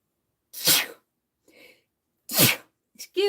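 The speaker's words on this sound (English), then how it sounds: "I'm going to sneeze." A single person sneezes sharply and close by, then after a pause a smaller snuffle follows, a second full sneeze, and a brief sniff at the end, with quiet between the bursts.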